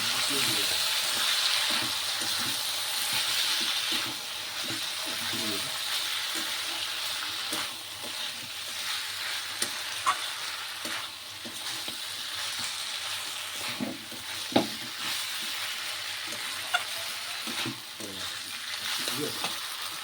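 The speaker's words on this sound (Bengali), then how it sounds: "এখন আমি ভেজে রাখা সব সবজি আর বড়ি একসাথে দিয়ে দেব। সব ভালো করে মাখিয়ে নেব।" Fried vegetables and bori being stirred into spices frying in a pan for a Bengali chhyachra, with a steady loud sizzle, a spoon scraping and clinking at intervals, and a voice talking over it.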